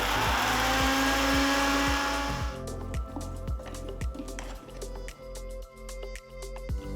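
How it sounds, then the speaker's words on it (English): A kitchen blender grinds roasted coriander seeds, cumin seeds and dried chilies into a dry powder with no water, a loud whirring motor that runs steady and then turns choppy with rattling spice bursts. "Grind the roasted coriander seeds, cumin seeds and chilies into a fine powder without adding water."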